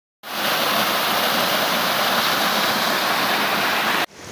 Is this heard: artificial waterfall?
yes